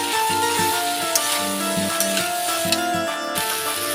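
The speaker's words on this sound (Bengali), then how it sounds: "দেখো, মশলাগুলোর সঙ্গে সয়াবিন একটা ভাজা ভাজা হয়ে গেছে।" Soybean chunks frying with spices in a pan for a vegetarian soybean and potato curry: a steady close sizzle with occasional scraping stirs, no talk.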